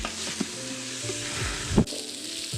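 Onions and spices for egg biryani sauté in a pan, a moderate sizzle with spatula scrapes and a sharp clatter of stirring near the end.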